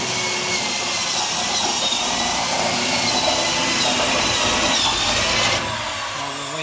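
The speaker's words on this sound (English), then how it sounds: "drilling all the holes on the other side." A power drill bores holes in the body of a 1966 Nova race car build, a loud continuous whine and grind close by that runs steadily before easing off at the end.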